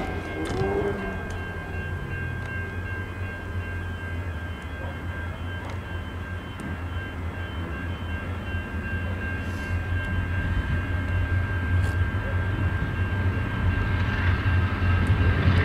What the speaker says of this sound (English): It's definitely a down train.